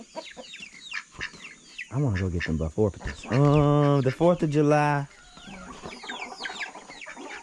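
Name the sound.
chickens clucking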